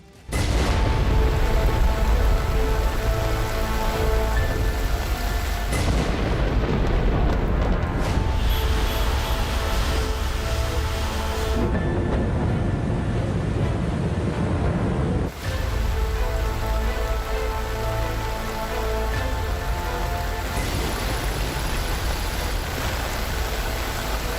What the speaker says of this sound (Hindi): मुंबई में बर्बादी की बारिश।